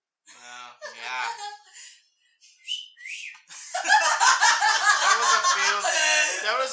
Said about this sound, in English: That was a failed whistle